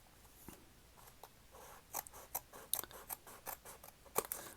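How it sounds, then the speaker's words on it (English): Scissors snip through the edge of a paper journal page in a quiet room, a series of short, crisp cuts that come faster and closer together toward the end. "I'm just trying to find a way to cut this edge off."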